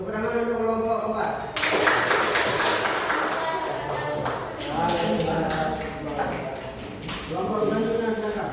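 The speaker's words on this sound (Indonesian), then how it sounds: "Tepuk tangan untuk kelompok keempat." A classroom group claps for the fourth student group after its presentation at an academic supervision observation, a burst of many hands that swells, eases off, then rises again, with voices talking over it.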